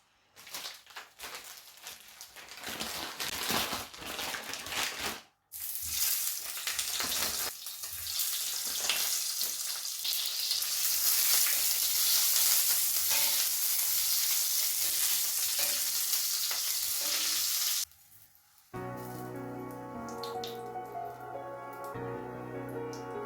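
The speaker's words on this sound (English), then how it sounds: "Then I'm going to just fry the smokies." Smokies fry in a little oil in a pan with loud, close sizzling and crackling, broken by a short pause and some stirring noise. Music plays at the end as the frying continues.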